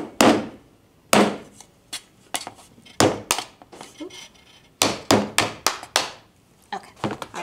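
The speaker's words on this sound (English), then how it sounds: "here's that here's rubber mallet" A rubber mallet pounds the joints of a wooden canvas stretcher bar frame in clusters of loud, sharp thuds with short pauses between the groups of strikes.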